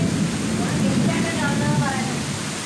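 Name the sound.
thunder and rain in the evening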